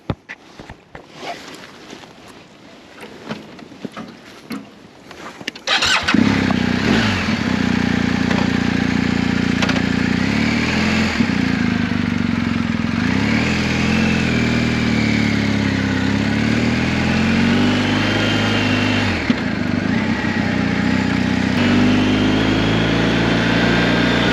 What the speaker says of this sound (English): First ride, here we go.